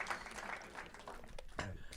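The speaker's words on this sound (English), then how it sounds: "Let's give them a round of applause." An audience applauds panelists at a community speaker series event, a dense wash of many hands clapping at moderate volume, sustained throughout with no talk over it.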